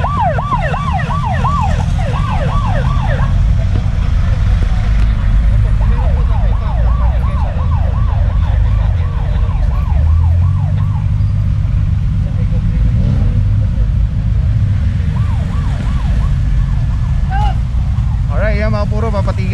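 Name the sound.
ambulance siren in traffic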